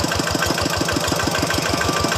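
The small single-cylinder engine of a walking tractor chugs steadily at a fast, even beat, loud and close, with no voices.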